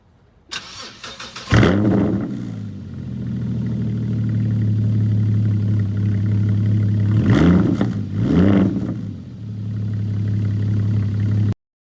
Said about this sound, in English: This is not the stock exhaust, so why don't we take a little listen to that.